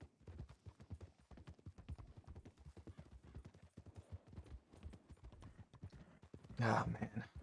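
Horse hooves clip-clop steadily in a video game, a rapid, close rhythmic patter running under talk throughout, with a louder burst near the end.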